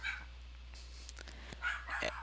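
A dog barks a couple of times at a distance indoors, faint and brief, with a steady low hum underneath.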